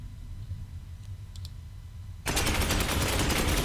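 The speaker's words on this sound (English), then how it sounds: "Put another shot down." Gunfire in the video game Space Hulk Ascension: after a quiet stretch with a few faint clicks, a loud burst of rapid shots erupts abruptly and continues steadily to the end.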